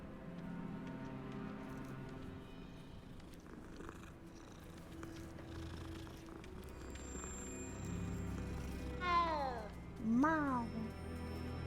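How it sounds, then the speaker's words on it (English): A cat in the video game Hogwarts Legacy purrs softly under background game music, then lets out two clear, close meows near the end. "Meow."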